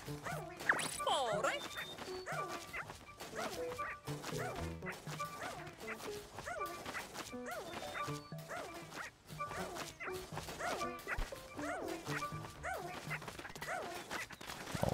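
Dog barks in the video game Pikmin 4 come as repeated quick yips and woofs at an even rhythm across the whole stretch, mixed with game effects and busy music.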